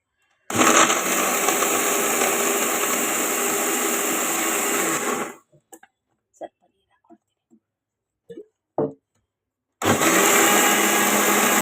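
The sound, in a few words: mixer grinder grinding ragi with jaggery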